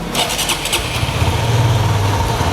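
A motorcycle engine cranks and fires up after an idle fuel adjustment, then settles into a steady, loud, close idle with a low throbbing rumble.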